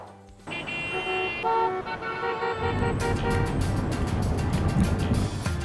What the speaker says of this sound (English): I'm still stuck in traffic.